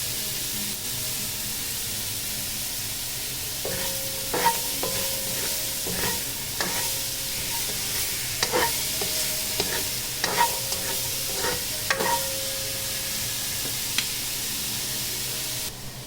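Vegetables and rice stir-fry in butter for chao fan, a constant hiss of sizzling with a run of sharp spatula scrapes and clinks against the pan in the middle stretch.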